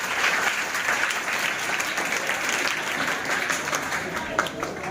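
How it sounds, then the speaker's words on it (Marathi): Loud, sustained applause from a crowd at a school mathematics and science exhibition, steady clapping filling the whole stretch without a break. "यांच्यासाठी सुद्धा एकदा जोरदार टाळ्या झाला"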